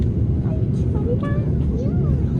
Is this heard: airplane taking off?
yes